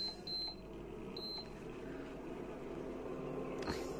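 An induction cooktop in a Kashmiri family's home kitchen gives two short, high beeps as it is switched on, with a low steady hum and faint room noise beneath.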